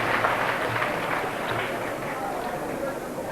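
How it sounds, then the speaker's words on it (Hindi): Satsang audience clapping at an evening ashram gathering, dense and continuous applause from a large crowd, fairly loud and steady throughout. "आप लोग तालियां तो बड़े प्रेम से बजाते हो"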